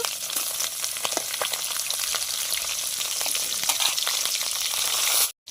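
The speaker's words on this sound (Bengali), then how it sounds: "তেলটা গরম হয়ে গেছে এবার আমি মাছের মাথাটা দিয়ে নেব ভালোভাবে লাল লাল করে ভেজে নেব" Bhetki fish head frying in hot oil for a bottle gourd curry, a loud, steady sizzle with crackling pops throughout that cuts off abruptly near the end.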